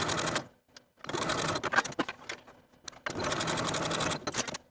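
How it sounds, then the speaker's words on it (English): Sewing machine stitching shoulder seams on a top, running in short bursts of rapid needle chatter separated by brief pauses, close and clear. "Then I'll sew both shoulder seams with a 5/8 inch seam allowance and press the seams open."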